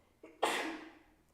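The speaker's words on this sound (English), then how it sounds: "my sneeze will forever be on the recording." A woman sneezes once, sharp and close: a short intake is followed by a bright burst that fades over about a second, alone with no talk.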